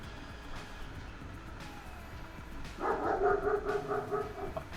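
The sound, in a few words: dogs barking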